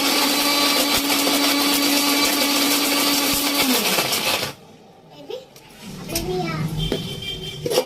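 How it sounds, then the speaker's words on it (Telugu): A kitchen mixer grinder blends dates: a loud, steady whirring drone for about four and a half seconds, then it cuts out, leaving quieter clinks and handling sounds as the jar is opened. "కూడా మిక్సీ వేసేసుకోవాలి."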